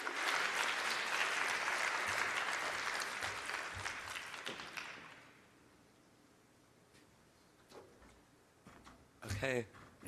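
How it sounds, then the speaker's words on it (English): Audience applause after a lecture rises as a full, close wash of clapping for about five seconds, then thins to sparse claps and room noise before a voice speaks briefly. "Let's give her another round of applause."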